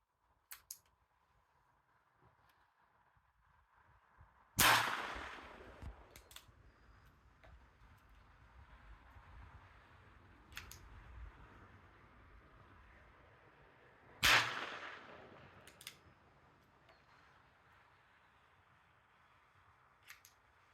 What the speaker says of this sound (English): I got some footage of me at a official range shooting it.